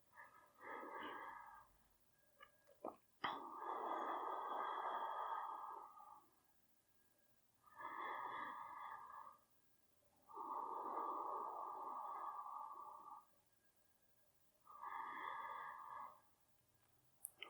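Slow, deep yoga breaths in a posture session, five long airy inhales and exhales in an even rhythm with pauses between, close and soft in a quiet room.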